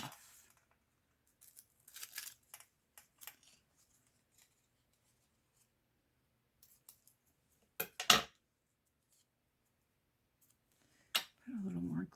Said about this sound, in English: Now I'm going to just go ahead and cut this off.